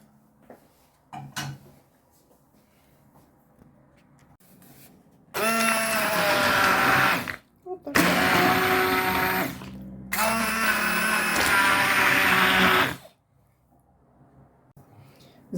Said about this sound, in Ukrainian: І погружним блендером